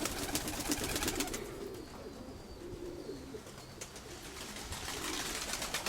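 Pigeon cooing, a hen pigeon being handled in a loft, with soft, low coos running through steady background rustling and faint ambient noise, close by and fairly quiet.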